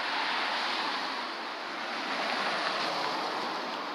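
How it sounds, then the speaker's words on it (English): Strong wind roars steadily across the microphone on a city street in Bucharest's old town, a broad, even rush of noise with slight swells and no voices. "on this very windy day."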